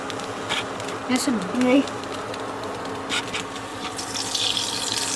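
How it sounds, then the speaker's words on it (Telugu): Water pours and splashes for a few seconds, with a voice briefly talking over it. "కింద వాటర్ పోసింది."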